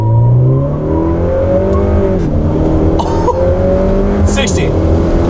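A 400 hp hybrid-turbo Honda Accord launches in second gear from held revs, its engine note rising loudly through the pull with a shift dip, heard close from inside the cabin.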